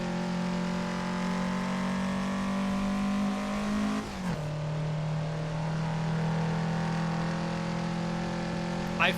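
Race car engine in Assetto Corsa during a 24-hour endurance race, holding a steady high drone with an audible gear shift midway before it settles back into a continuous, close, loud hum.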